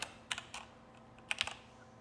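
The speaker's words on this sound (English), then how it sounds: "Press Windows R and type" Keys clack on a computer keyboard during a PC troubleshooting session, a few scattered bursts of typing with pauses between them, close up and fairly quiet, no talking.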